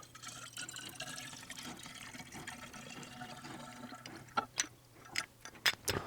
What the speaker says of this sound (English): take the cap off, and then we're just going to pour this in